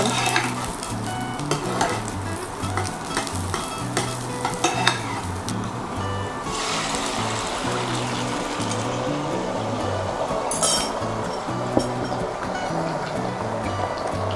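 Garlic stir-fries in hot oil in a pan with a steady, close sizzle and repeated scraping strokes of a spatula. No one speaks over the cooking.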